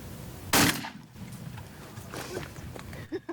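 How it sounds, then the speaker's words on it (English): A single loud, sharp gunshot cracks out during a turkey hunt in Oklahoma, fading quickly into outdoor ambience with faint voices nearby. "Shoot him whenever you want."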